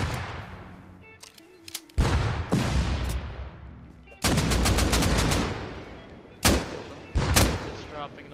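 Gunfire in the console game Rust: loud, close bursts of rapid automatic fire and sharp single shots with booming echoes, coming in several separate volleys one after another, over a low background rumble.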